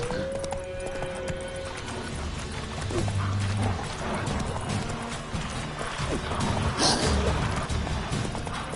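Roach the horse gallops in The Witcher video game, with steady clip-clopping hooves at close range under mechanical game sounds, a brief whinny and a few short shouted voices.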